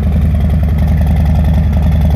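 A 2020 Harley-Davidson Low Rider S V-twin, stage 1 with Vance and Hines Pro Pipe exhaust and Arlen Ness Big Sucker air intake, idles steadily with a deep, loud, lumpy throb and rhythmic pulsing, close and alone with no talk.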